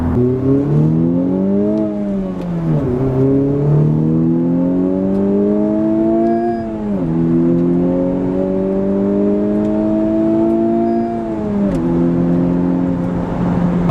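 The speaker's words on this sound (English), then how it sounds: "you're able to hear the engine a little bit more" A 2020-2021 Honda Civic Type R engine revs up and down in smooth rising and falling sweeps, loud and close, with a steady whirring tone and no talking.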